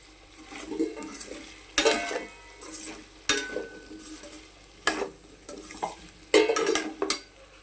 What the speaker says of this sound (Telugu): ఇదిగోండి బంగాళదుంప వేగిపోయింది.